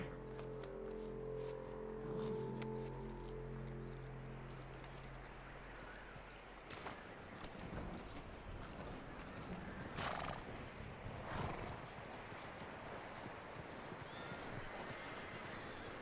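Horse in Red Dead Redemption 2: steady clip-clop of hooves close by, with a whinny. Sustained low tones in the first few seconds, then a dense, even stretch of hoofbeats and movement.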